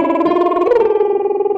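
A singer does a fluttering lip trill whose pitch breaks abruptly partway through, a sudden crack in the voice before the trill carries on lower and trails off, close and alone.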